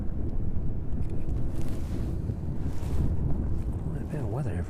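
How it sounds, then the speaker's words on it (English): Very strong wind at East Midlands airport buffeting the microphone, a loud continuous rumbling roar with gusty surges, with a voice speaking over it. "Very strong wind indeed making its way in from the west this evening."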